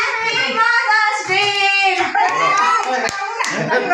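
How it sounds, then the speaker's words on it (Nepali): Children clap their hands together at a Mother's Day celebration, with a burst of claps near the close, mixed in with lively children's voices and singing-like chatter throughout. "ताली ताली ताली"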